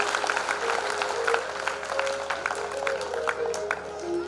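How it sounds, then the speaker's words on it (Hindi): Applause from an audience at a Ram Katha religious gathering, steady crowd clapping throughout over a faint sustained tone, moderately loud and continuous. "आप जोरदार तालियां बजाएंगे"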